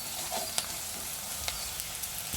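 Lemon pickle ingredients with curry leaves and turmeric sizzle softly in a pan, a steady low frying hiss with a few faint stirring clicks of a spoon.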